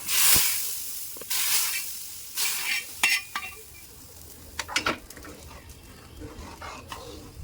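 A five-spice tempering poured into lentil dal, giving loud sizzling and hissing bursts followed by scattered clinks of the spoon against the pot, close and with no talking.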